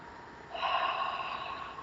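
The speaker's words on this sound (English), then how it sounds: "we could all take 3 deep breaths" People take deep breaths together during a guided meditation, one long breathy inhale-exhale swelling up after a quiet start, soft and close with no talking.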